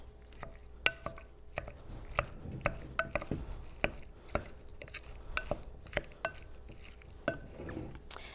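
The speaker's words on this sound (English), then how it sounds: "So I'm just mixing up the ingredients here" A utensil clinks and scrapes repeatedly against a bowl while guacamole ingredients such as onion are stirred together, soft irregular taps at close range.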